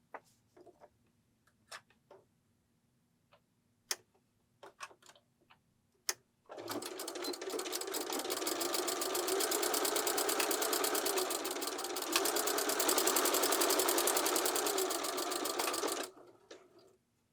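A sewing machine stitching a skirt starts after a few scattered clicks and taps, then runs in a fast, even mechanical rattle for about ten seconds before stopping.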